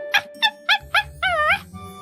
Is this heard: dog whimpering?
yes